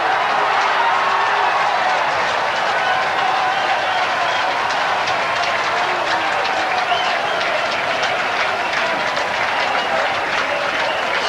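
Football crowd at Leederville Oval in a 1985 WAFL match between West Perth and South Fremantle, a loud, sustained roar of cheering and applause after a goal, steady and dense throughout, with rain-soaked stadium ambience.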